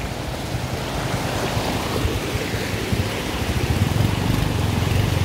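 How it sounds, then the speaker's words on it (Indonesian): A fast-flowing river being crossed on foot rushes in a steady, broad roar close by, with bursts of wind buffeting the microphone and no voices heard. "Sungainya cukup deras."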